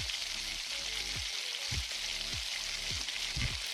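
Hilsa fish curry ingredients with a spoonful of salt lightly frying in a pan: a steady broadband sizzle throughout, with a few soft low scraping sweeps recurring about every half second, no talk.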